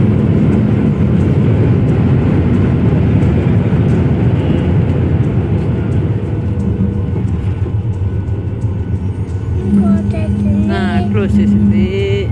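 A steady, loud roar of airplane engines and airflow fills the cabin during the descent for landing on a flight at Indore, with a brief tonal chime and a voice heard near the end.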